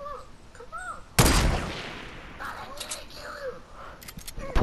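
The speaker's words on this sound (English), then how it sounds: "Pull out the shotgun." A single loud, close shotgun blast in Fortnite, a sharp crack that fades into a long decaying tail, set among faint game sounds and quieter background noise.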